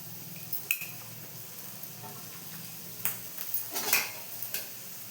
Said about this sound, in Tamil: கொஞ்சமாக எண்ணெய் இந்த அளவுக்கு ஊற்றிட்டு நம்ம அரிஞ்சு வச்ச கொஞ்சம் வெங்காயத்தையும் வதக்கிடலாம்